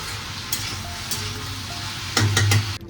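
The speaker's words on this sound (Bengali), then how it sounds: "আজকে মোটা মোটা করে পেঁয়াজ কেটেছি আর মোটা মোটা করে আলু কেটে পেঁয়াজ আলু ভাজা করছি" Thick-cut onion and potato frying in oil in a pan, giving a steady close sizzle with a few sharp stirring scrapes and a louder burst of frying near the end, no speech.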